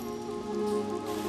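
Steady rain hissing down, a soft continuous patter with a faint tonal hum beneath, no voices.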